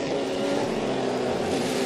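A Trans-Am race car drives the Miami street circuit, its engine a steady, moderately distant drone that holds without a clear pass-by.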